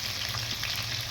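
Mango pieces frying in a pan for a sweet mango pickle, giving a steady, close hiss of sizzling oil that runs unbroken and alone.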